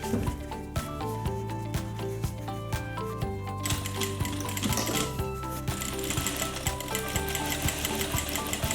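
A sewing machine runs a straight stitch close along the edge of a zip-around long wallet, its rapid needle chatter rattling steadily and close over a background of music.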